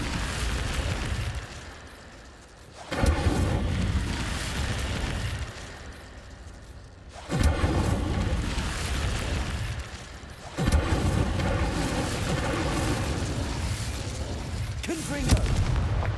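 Incendio fire spells cast in Hogwarts Legacy erupt in repeated loud, booming whooshes at a few-second intervals, each a roaring burst that lingers briefly, with a voice speaking between them.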